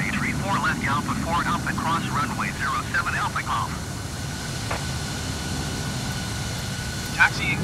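An F-16 jet taxiing in a flight simulator game gives a steady low engine roar and hum, close and constant, with a radio voice talking over it at first.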